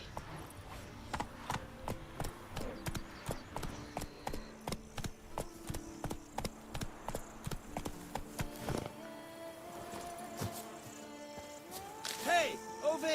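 Roach the horse gallops in The Witcher Wild Hunt, a steady run of hoofbeats close up for most of the stretch before slowing, with other game sounds coming in near the end.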